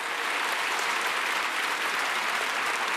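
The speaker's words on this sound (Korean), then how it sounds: "다시 박수, 미세먼지를." A congregation claps during a Christmas church service, producing a thick, uniform wash of applause that stays steady and loud for the full stretch, with no voices rising above it.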